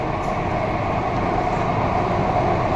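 Mumbai Metro Aqua Line 3 underground train between Worli and Siddhivinayak, a steady loud broadband rumble and rushing hum heard from inside the carriage, unbroken throughout.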